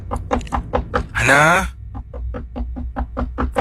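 Knuckles rap on a closed neighbour's front door in an even series of firm knocks. A voice calls out briefly in between, and the knocking then resumes at a steady pace.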